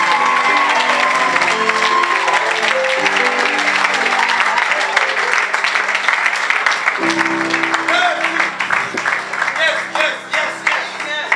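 Church worship with the congregation clapping, a dense, steady applause that stays loud and close throughout, layered over music and singing voices.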